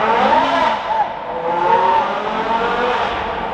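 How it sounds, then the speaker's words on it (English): A Porsche Carrera GT supercar engine revs and howls on a New York City street, a high, rising and falling wail like an older Formula One car, loud and close with changing pitch through each throttle blip. "It sounds like a Formula One car, not the Formula One cars today, the ones they had like 12 years ago."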